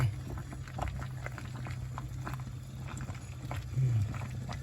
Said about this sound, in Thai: น้ำมันเริ่มมีฟอง แล้วนะ ร้อนได้ที่ แล้ว ค่อย ๆ เคี่ยวไป